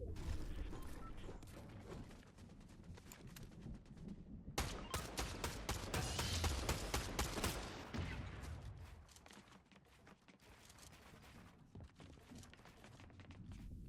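Gunfire in the Fortnite video game: a quiet fight with rapid bursts of shots, one dense stretch of fire in the middle, then scattered single shots and mechanical clicks, all fairly faint.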